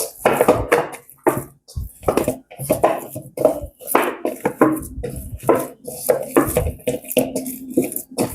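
Hands kneading vegetable roti dough slicked with sunflower oil in a home kitchen, giving soft, irregular slaps and squishes with brief pauses between them, close by.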